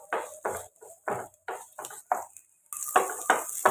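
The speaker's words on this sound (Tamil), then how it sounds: "ஒரு நூறு கிராம் அளவு சின்ன வெங்காயம் இதை வதக்கலாம்" Small onions sautéed in oil are stirred with a utensil in a pan, making about ten quick, regular scraping strokes up close, with a steady sizzle rising toward the end.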